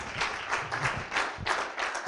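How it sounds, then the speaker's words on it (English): A church congregation applauds at a worship service, a continuous wash of many hands clapping at moderate distance with no talk over it. "Give him another hand of applause"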